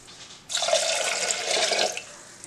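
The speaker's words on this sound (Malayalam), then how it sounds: "ഇതിലേക്ക് നമുക്ക് വെള്ളം ഒഴിച്ചു കൊടുക്കാം." Water is poured into a cooking pot holding sliced green chillies and chopped tomato for tomato pappu, a close splashing gush lasting about a second and a half after a quiet start.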